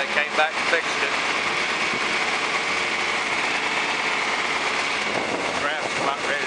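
A John Deere tractor engine runs steadily while chiseling hard ground after an injector pump repair, a continuous mid-distance drone with rattling and vibration and no clear changes in pace.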